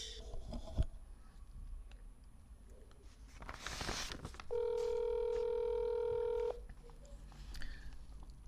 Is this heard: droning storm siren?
no